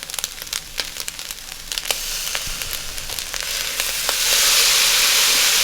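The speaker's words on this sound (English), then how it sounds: "just add a little bit of soy sauce, maybe about 2 teaspoons" Soy sauce poured into Chinese fried rice with sausage and onions, starting as crackling pops and spatula clicks that swell into a loud, steady sizzle toward the end, close and without talk.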